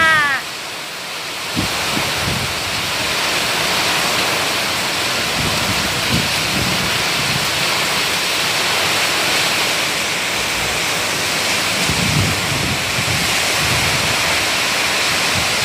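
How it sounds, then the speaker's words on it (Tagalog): A heavy rainstorm pours steadily as dusk falls in Paniqui, Tarlac, a dense, loud roar of rain that runs unbroken through the clip, with some low rumbles underneath. "Parang bagyo, bagyo guys."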